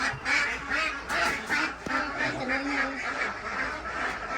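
A group of crossbred ducks quacks and honks continuously at close range, loud and overlapping, on a rural farm.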